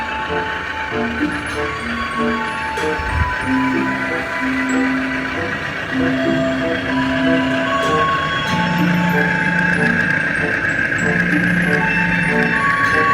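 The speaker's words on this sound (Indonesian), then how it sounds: "Kereta api Argo Wilisnya teman-teman akan memasuki area jembatan" The Argo Wilis passenger train rolls onto a bridge on a curving climb, giving a steady, loud rail rumble with a droning engine tone as someone talks over it.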